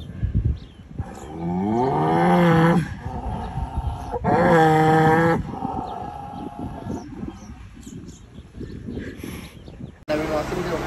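A frightened newly arrived calf gives two loud, drawn-out moos close by, one after the other with a short gap, followed by quieter shuffling noise.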